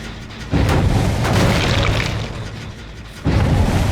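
Deep explosion booms from the horror video game Dead by Daylight, two loud low-frequency blasts with rumbling tails, the second arriving about three seconds after the first, with no talk over them.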